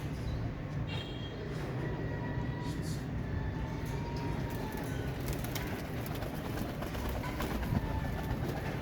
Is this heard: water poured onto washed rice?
no